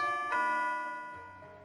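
Doorbell chiming in the visual novel game Neko Para, a single bright ringing tone with rich overtones that strikes once and slowly fades over about a second.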